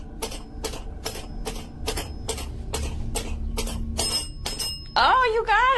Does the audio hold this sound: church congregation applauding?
no